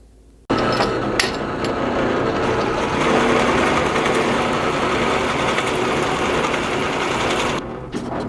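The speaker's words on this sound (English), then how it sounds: "Got both them drilled pretty quick" A power drill bores through a 2x4 with a boring bit, running steadily and loudly for several seconds after a brief quiet start, then cutting off near the end.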